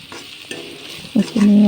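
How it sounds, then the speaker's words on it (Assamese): Spices and meat for an Assamese pumpkin chicken dish get stirred in a hot pan, soft scraping and sizzling that ends in a louder, sustained frying hiss and rattle. Close, brief, and without speech. "এইখিনি অলপ ভাজি ইয়াত মাংসখিনি দি দিম"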